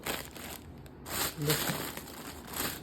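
A plastic bag of frozen vegetables, such as beans or leafy greens, is opened with close, crisp crinkling and rustling in a few bursts while a person talks.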